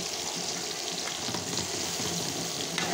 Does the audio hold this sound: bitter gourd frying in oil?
yes